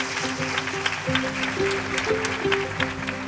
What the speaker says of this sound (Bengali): একটু জোরে হাততালি দেন।